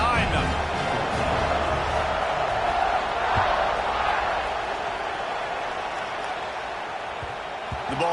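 Stadium crowd at a football game roars steadily through a kickoff, a dense broad wash of cheering that holds loud throughout and eases slightly near the end, with a commentator talking over it.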